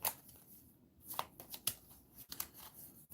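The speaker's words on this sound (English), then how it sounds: "Shuffle." Playing cards are shuffled in a solo Dungeon Brawler tabletop game, a quick burst of riffling flicks followed by a few sharp taps and snaps, close and fairly quiet, with no talking.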